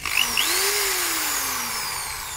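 A handheld power drill runs alone, with a short whir, then a rising spin-up that settles into a steady high whine and slowly winds down, close and fairly loud.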